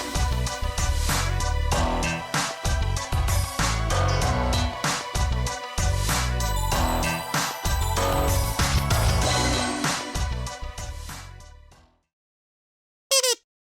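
Unfinished remix chorus playing loud and dense for about twelve seconds with steady beats and layered synth harmonics, then cutting to silence before a brief closing blip.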